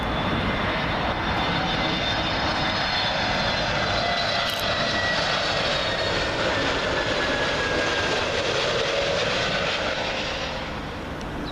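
An Aer Lingus Airbus A321neo airliner arriving from Dublin at Heathrow Airport, its jet engines a steady, loud roar that holds for the whole stretch and eases only slightly at the very end, with no talking.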